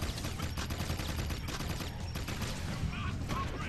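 Dense, continuous gunfire and explosions fill a Jak II game scene, loud and unbroken throughout with a steady rumbling bed and no clear pauses between shots.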